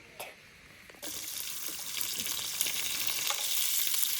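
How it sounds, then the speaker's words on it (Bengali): Fish sizzles in hot oil, quiet at first, then a sudden louder burst of frying that keeps crackling steadily after the first second, with scattered pops and clinks. No voices are heard. "মাছ ভাজা হয়ে গেছে উঠে নিচ্ছি"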